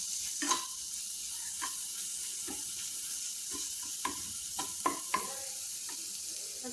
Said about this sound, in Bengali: ফ্লেমটা লো ফ্লেমে করে দিয়ে আস্তে করে ভেজে নেবে